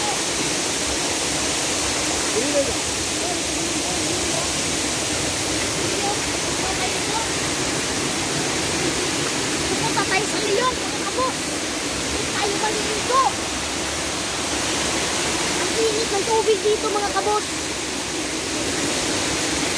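A powerful waterfall roars continuously, a dense and steady rush of falling water close by, with occasional faint chirps or voices barely rising above the noise.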